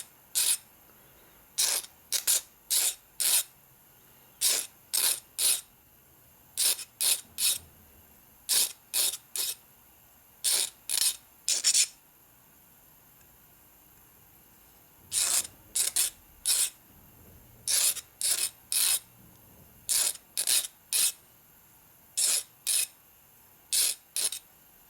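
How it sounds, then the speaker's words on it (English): A hand tool deburrs and chamfers a drilled hole in a 1957 Harley-Davidson panhead engine part, heard as bursts of short, crisp scraping strokes, close and loud, separated by a long pause midway. "I'm going to deburr the hole a little bit here. A little chamfer on the outside edge."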